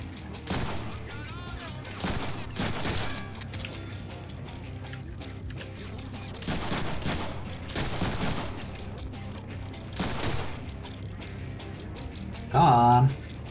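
Gunfire bursts from the Deadpool video game, loud repeated volleys at irregular intervals amid game effects, with talk over parts of it.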